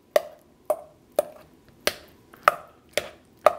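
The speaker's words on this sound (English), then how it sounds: "what I like to do is kind of take my spoon, break it up into pieces" A spoon breaks up ripe avocado in a bowl for guacamole, making seven crisp, evenly spaced taps and squelches up close, each fading quickly, with no talking.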